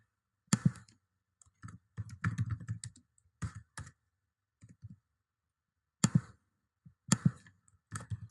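A few quiet computer mouse clicks, each one sharp, brief and isolated, spaced out against near silence, while clicking Save and Continue on a web page.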